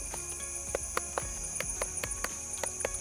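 A series of crisp, dull knocks tapped on the hard rind of a freshly cut, unripe durian, fairly evenly paced, close up, with a faint steady hum underneath.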